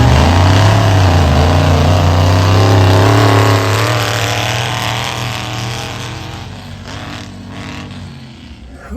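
Gray Chevy Blazer roaring through a mud racing lane at the 2025 Provost Splash and Smash CMRO mud race, a loud, close, revving engine that holds a high pitch and then fades as the truck pulls away.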